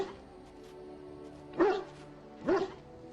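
A dog barks twice in Dragon Age Origins, two short separate barks over a low steady game background hum, with no talking.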